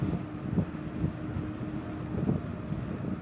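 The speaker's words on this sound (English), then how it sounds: "I am riding against the wind" Wind rushing against a rider on an Emove Roadrunner electric scooter, a steady low roar buffeting the microphone with gusty swells, heard alone without speech.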